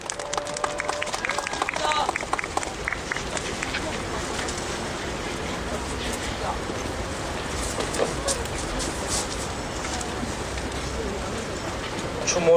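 An audience at a 2012 street memorial for homeless people who died outdoors claps to welcome a speaker, a long, dense patter of applause that continues steadily throughout.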